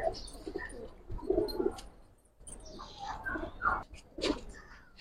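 Giribaz pigeons coo in a loft, with several soft, throaty coos repeating in bursts throughout, close and moderately loud.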